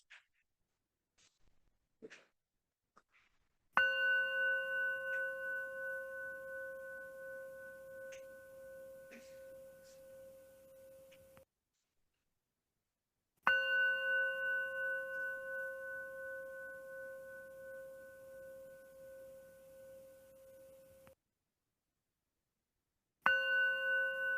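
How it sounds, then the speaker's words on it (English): A meditation bell is struck three times to close a session, each ring a clear sustained tone that slowly fades, with long silences between strikes and faint small sounds before the first. "I'll share this last bell with you."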